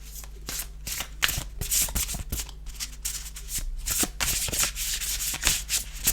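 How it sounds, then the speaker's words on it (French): Playing cards with a paper-quality finish are shuffled and handled up close, giving brisk rustling riffles and soft slaps in an irregular run. "Je sais pas si je peux vous faire entendre le son des cartes."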